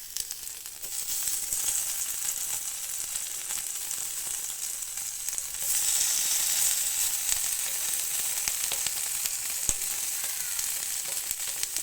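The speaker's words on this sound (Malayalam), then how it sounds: "നമ്മുടെ കാടക്കുട്ടന്മാരെ ഇതാ നമ്മൾ എണ്ണയിലിട്ടിട്ടുണ്ട്." Halved quail pieces fry in hot oil with a loud, constant crackling sizzle that swells briefly midway and carries on without any voices.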